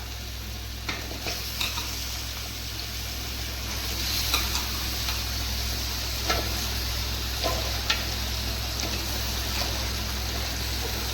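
Six kilograms of chicken go into a large pot for chicken kurma, giving a constant loud sizzle and bubbling with occasional scrapes and clinks from stirring, up close and without talking.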